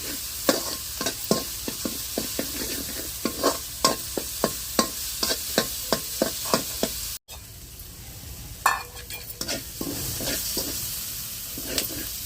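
Ginger-garlic paste masala frying for a village-style chicken and mushroom curry, steady loud sizzle broken by rapid rhythmic stirring scrapes of a spoon in the pan, close up with no talk.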